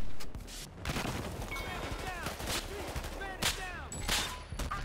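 Gunfire in the Battlefield Hardline heist mode, with repeated sharp cracks of shots scattered across a busy battle mix, including sniper rifle fire, plus whooshing effects and muffled voices underneath.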